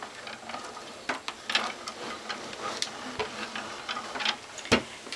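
An AccuQuilt Go fabric cutter is cranked to roll a die and cutting mat through, giving a run of close, sharp ratcheting clicks and gear ticks in an uneven rhythm, with one louder snap near the end.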